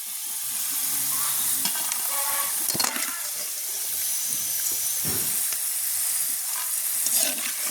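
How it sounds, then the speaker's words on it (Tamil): Vegetables fry in oil in a pan in a village kitchen, a steady close sizzle with bursts of stirring and scraping, and no voices. "இப்படியே நாங்கள் எல்லா மரக்கறியும் பொறிச்சு எடுப்போம்"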